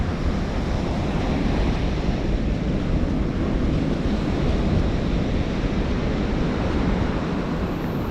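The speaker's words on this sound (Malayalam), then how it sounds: "നന്നായിട്ട് വെള്ളം കയറുന്നുണ്ട് ഇവിടെ." Sea waves surge steadily onto a beach, a dense, continuous roar of surf mixed with wind buffeting the microphone, loud and unbroken throughout with no talking.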